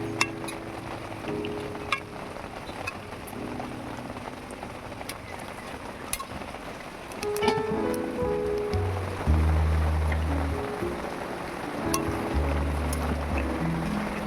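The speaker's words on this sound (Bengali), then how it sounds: "এবারে ঢাকা দিয়ে সেদ্ধ করতে দেব" A covered pot of Bengali curry of jackfruit seeds with Malabar spinach simmers in water, giving a steady close bubbling hiss with soft irregular pops and a low hum underneath.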